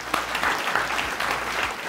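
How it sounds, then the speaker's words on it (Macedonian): A studio audience gives the show's guests a dense, loud burst of applause, many hands clapping together in a continuous wash with no talk. "Аплауз за моите пријатели и за моите гости."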